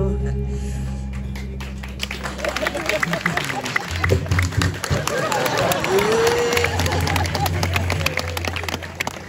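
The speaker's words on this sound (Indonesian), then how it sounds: "Tak penonton tepuk tangan, nyi udah milu tepuk tangan." Audience clapping and crowd noise at a Balinese comedy performance in the courtyard of Pura Natar Sari temple, Apuan. Scattered claps run steadily through a busy crowd murmur, with someone talking over them.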